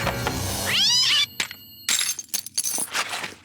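A cartoon cat lets out a loud, rising meow, followed by sharp clattering and crashing noises like glass breaking.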